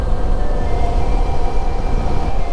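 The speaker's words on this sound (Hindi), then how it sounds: "वो देखो ट्रेन जा रही है, वो रेलवे लाइन है दिल्ली वाली" A train passing on the Delhi railway line near the Son river, a loud, continuous rumble with rhythmic clatter from the wagons, close by and steady throughout.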